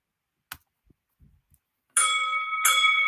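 Opening bell for a wrestling news show: a few faint clicks and taps, then two loud bright ringing bell strikes in quick succession, each with a sustained metallic ring, heard alone.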